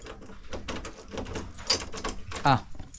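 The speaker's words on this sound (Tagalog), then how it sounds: "Lock natin ang pinto." A door slides and clunks shut, then a lock catches with a short sharp click, heard close amid background chatter.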